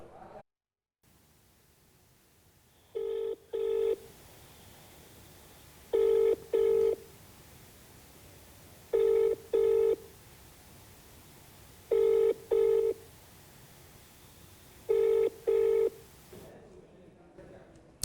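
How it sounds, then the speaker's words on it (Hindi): A telephone rings unanswered on an outgoing call, a double-pulse ring tone repeating every few seconds, clear and steady over a faint line hiss. "अब आइए देखते हैं जब 8वें विधायक को फोन किया गया तब क्या हुआ।"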